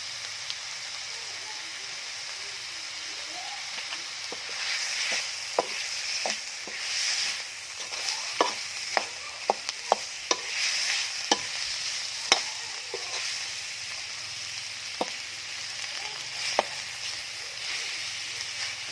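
Spicy eel stir-fried in a pan over a high flame sizzles and hisses steadily, while a spatula scrapes and taps the pan in a run of sharp, irregular clicks.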